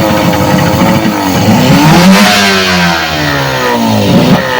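A kerosene-fuelled boat engine revs up close and loud, its pitch sweeping up and falling back as the throttle is opened and eased, with no talk.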